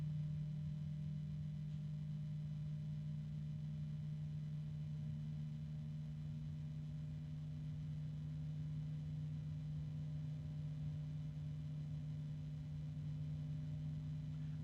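A Noctua computer fan runs with a soft, constant tonal hum and a faint broadband whoosh, holding steady throughout with a slight pitch lift partway through.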